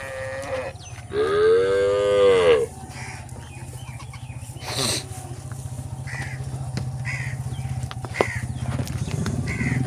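Cholistani and Jersey cross cows on a farm in Pakistan, one giving a single long, loud moo near the start, followed by crows cawing and other farmyard sounds over a steady low background rumble.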